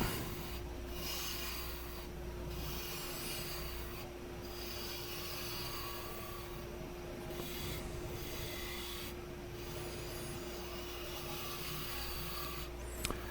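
A spindle gouge cuts a wooden lidded box base spinning on a lathe at about 2,500 rpm, giving a steady rasping scrape with a constant motor hum underneath, running throughout at moderate level.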